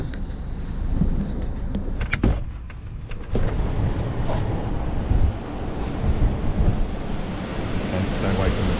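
Strong gusty wind buffets the microphone in the Scottish Borders during a storm, a loud continuous roar with surging gusts and brief crackles, heard alone without speech.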